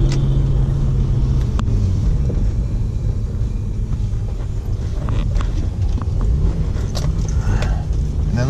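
A BMW E36 M3 drives and turns around, its engine a steady low rumble heard from inside the car with road noise and a few faint interior clicks and knocks.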